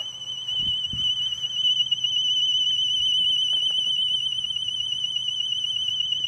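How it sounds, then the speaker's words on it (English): A steady high-pitched electronic alarm tone from a robotic lawn mower beeps on continuously, loud and unbroken, with faint low background hum beneath it. "When this alarm is going off,"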